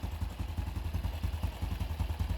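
Honda Wave 110 motorcycle engine running just after a carburetor overhaul, a steady low chugging idle with even rapid pulses, close and fairly loud, with no talk over it.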